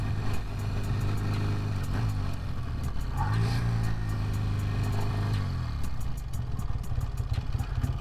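Twin-cylinder 1971 BSA 650 Lightning motorcycle being ridden, its engine a continuous loud rumble with a rising, revving pitch through a gear change, steady and close throughout.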